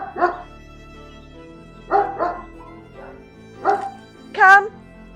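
A dog barks in short bursts, about four or five separate barks with pauses between, close and fairly loud, the last one higher and yelping.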